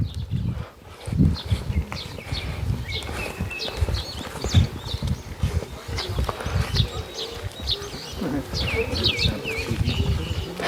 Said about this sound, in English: all I hear are doves.